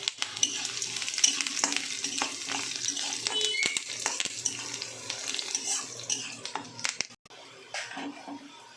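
Curry leaves and dried red chilies frying in oil, a crackling sizzle with spoon stirring and scraping against the pan, fairly close and steady, with a brief pause near the end.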